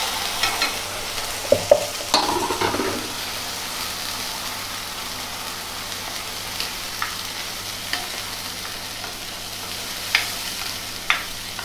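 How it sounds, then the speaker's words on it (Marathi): Spice masala fries in hot oil in a kadhai for udad dal, giving a steady close sizzle with scraping stirs and a few sharp spoon knocks against the pan. "आता आपण मसाला तळून घेऊया।"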